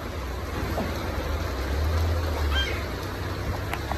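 Light rain falls outdoors in a steady, even hiss of drops that continues without a break, with only faint traces of voices in the background.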